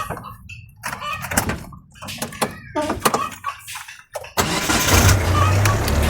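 A Nissan C22 Vanette van with a noisy gearbox, door handling and clunks first, then the engine turns over and settles into a loud, steady idle close by, with some talking.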